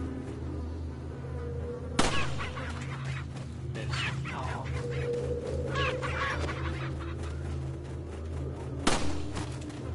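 A chicken clucks in the video game Resident Evil 4, its calls running through busy in-game ambience and broken by two sharp clicks, with no voices.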